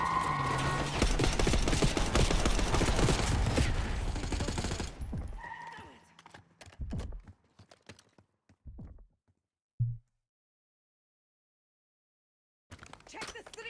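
Dense, rapid gunfire rattles loudly for several seconds during a street shootout with a limo approaching, then breaks into scattered shots and thuds before going quiet, with a brief burst returning at the end.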